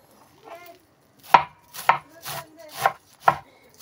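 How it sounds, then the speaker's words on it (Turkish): A knife chops parsley on a cutting board in five or six sharp, evenly spaced strokes, close and clear with no talk. "bol maydanozumu doğruyorum"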